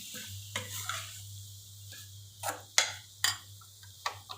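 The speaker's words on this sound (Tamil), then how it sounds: "இந்த மாதிரி நல்லா வதக்கி எடுத்துக்கணும்." Coriander powder being sautéed and stirred in a pan for a fish curry, with intermittent scraping and clinks of a spatula against the pan over a steady low hum, fairly close.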